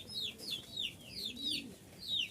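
Giribaz pigeons, males and females, roam loose in a loft, their faint, repeated short chirping calls rising every few tenths of a second over a soft low cooing.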